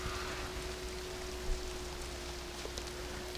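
Rainfall in the online game RIFT along Quarrystone Road, a steady hiss of falling rain at moderate volume with a faint tonal hum underneath and no voices.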